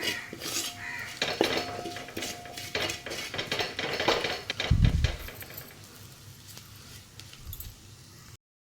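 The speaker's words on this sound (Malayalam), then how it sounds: "വഴറ്റിയെടുക്കാം." A spoon scrapes and clanks in a pan while masala is sautéed for beef curry, giving irregular metallic knocks and stirring scrapes over a faint sizzle, busiest early and trailing off.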